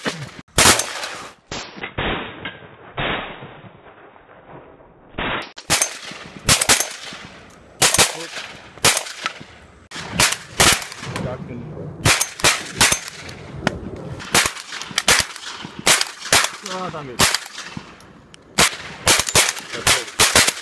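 Shotguns fire during a duck shoot in Pakistan in October, sharp loud blasts coming in rapid irregular bursts across the whole stretch, some close and some farther off, with a few brief voices between shots.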